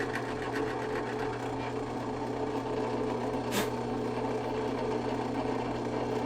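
A power tool cuts a bevel into the shoulder of a Galil rifle gas port, a steady high-pitched whirring grind with a constant low hum, continuous and close throughout, with one brief sharper burst near the end.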